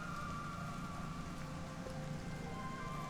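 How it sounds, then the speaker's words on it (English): Pouring rain falls steadily in I Was a Teenage Exocolonist, a dense, even hiss of drops with a faint tonal hum running beneath it and no voices. "It's pouring rain and everyone trying to stay dry under the grass-roofed palapas."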